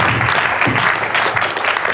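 Loud, close audience applause at a comics convention panel, dense continuous clapping from a crowd filling the whole moment.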